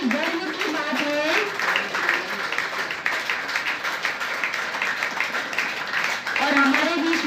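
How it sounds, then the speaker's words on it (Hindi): Audience applause at a Brahma Kumaris gathering, a steady wash of clapping from a crowd lasting several seconds, with a speaker's amplified voice talking over it. "तालियां बजाते रहें।"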